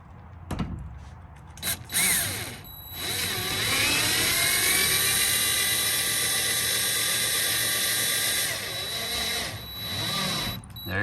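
A power driver sinks M8 by 16 metric screws into the sheet metal of a Mercedes Sprinter van with a sustained high whine lasting several seconds, bracketed by short clicks and bursts.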